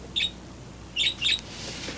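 Birds give three short, bright chirps, one and then a close pair, faint and somewhat distant over a quiet room-tone background in an old gangster drama.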